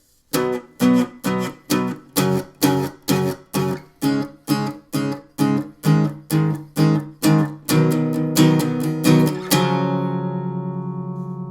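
Electric guitar strummed through the chords of a song, a steady run of about sixteen even downstrokes, then a final chord left to ring out and decay, played alone with no talking.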